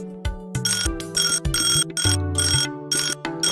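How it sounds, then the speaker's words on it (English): A cartoon high frequency detector gives off bright, rapid electronic beeps and ringing chirps over a whirring mechanical hum, loud and continuous with short gaps between bursts. "That's the high frequency detector."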